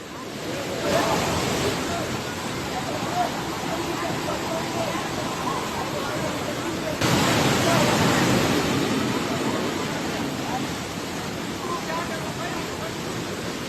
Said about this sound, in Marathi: पाण्याचा वेग इतका होता की त्याला धबधब्याचं स्वरूप प्राप्त झालं होतं